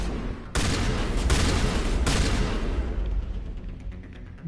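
Sniper fire in a Mass Effect Legendary Edition firefight: a loud, sustained burst of overlapping gunshots and booms from about half a second on, with several sharp cracks, fading into a rumbling tail.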